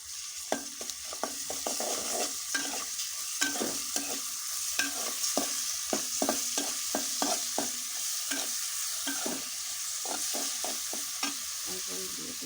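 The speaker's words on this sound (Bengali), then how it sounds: "এটা একটু হালকা ভেজে নিই" Soft sizzling of onion and garlic paste frying in oil, with a spoon tapping and scraping the pan in quick, irregular strokes.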